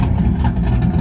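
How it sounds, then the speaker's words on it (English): Toyota Camry engine at a car meet, a steady loud low rumble filling the whole second, close by with slight throttle swells and no talk over it. "Oh, this Camry sounds tough."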